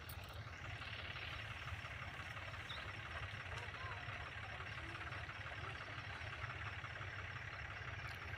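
A tractor idles steadily, bogged down and stuck under a heavy trolley load of sugarcane in a cane field; a continuous low engine drone runs throughout, with talk over it.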